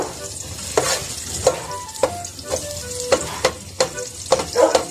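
Onions and garlic sautéing in a pan for Filipino adobo, stirred with repeated spatula scrapes in an irregular rhythm over a constant sizzle.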